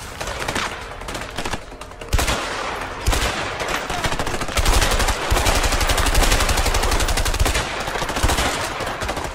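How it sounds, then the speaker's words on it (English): Rapid bursts of gunfire from the video game A Way Out, dense automatic shots rattling loudly and almost continuously, with heavier volleys stacking up in the second half. "Yeah, I thought you were shooting now."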